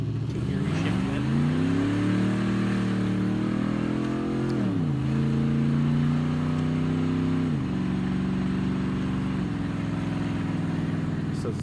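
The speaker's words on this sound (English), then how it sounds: "Can you hear me shifting it?" Turbocharged NBS Chevrolet Silverado truck on the road with a new transmission and shifter, engine droning and rising in pitch through the gears, with audible drops at each shift, heard from inside the cab.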